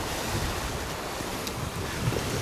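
Swell waves surge against coastal sea rocks at a fishing spot, a continuous broadband roar of surf mixed with buffeting wind noise on the microphone, loud and close throughout.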